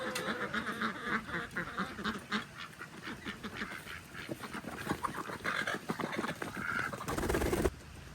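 A flock of poultry let out of a farm coop, with busy overlapping quacking and honking calls and rustling movement, fairly close and continuous throughout.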